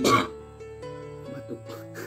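A short throaty cough bursts out at the very start, then gives way to steady humming tones with a little voice-like sound underneath.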